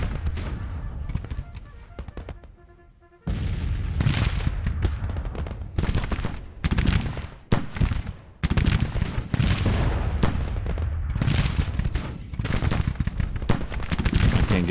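Volleys of musket gunfire crackle in a Civil War battle in the strategy game Grand Tactician: Civil War, dense rapid shots rolling almost continuously at close-to-mid range after a brief lull, with no voices.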